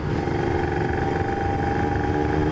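Motorcycle riding ambience captured by a Zoom S1N recorder mounted on the bike: a steady, loud engine drone and wind rumble run continuously without pause, with no voices.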